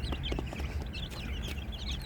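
Backyard hens and young chicks cluck and peep in overlapping bursts, with a dense steady chatter of small high calls and no voices.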